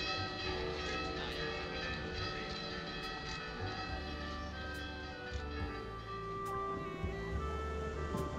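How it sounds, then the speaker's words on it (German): Church bells ring out over an Amalfi Coast town, a dense, sustained peal of overlapping metallic tones that holds steady and loud throughout, with no voices. "hat der Bürgermeister sogar zu meiner Ankunft die Glocken läuten lassen"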